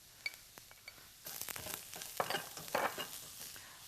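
Fresh sliced mushrooms hit a hot pan with roasted ginger and sizzle loudly up close, with scraping stirs and a few light clinks and no talking.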